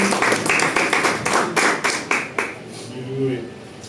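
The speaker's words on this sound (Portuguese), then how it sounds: "Aplauda Jesus." A Sunday church congregation claps together, a quick run of sharp, even claps that stops after a couple of seconds, leaving a voice speaking.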